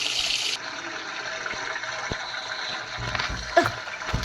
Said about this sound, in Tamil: தண்ணி ஆன் பண்ணிட்டேன்.